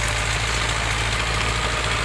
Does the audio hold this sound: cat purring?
no